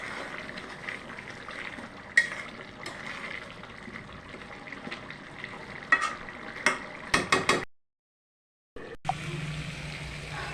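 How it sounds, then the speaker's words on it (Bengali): Beef pieces stir-fried in a pan for an Assamese beef and bottle gourd dish, with steady sizzling and frying and repeated stirring scrapes. Sharper clatters come near the end, then a brief silence before the sizzle resumes. "মাংসটা কষানো হয়ে গেছে"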